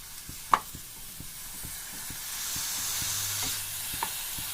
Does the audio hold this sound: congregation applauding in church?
no